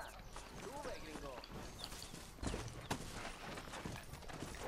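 Horse hooves clip-clopping in the video game Red Dead Redemption, quiet hoofbeats under game sounds and a voice, with a couple of sharper thuds midway.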